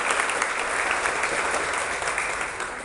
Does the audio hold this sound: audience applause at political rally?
yes